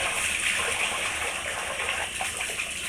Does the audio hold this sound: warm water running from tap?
yes